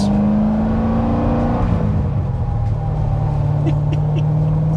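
A 2007 Corvette Z06 engine revving close by, loud and continuous, with the pitch climbing, dropping, then settling into a steady high idle-rev.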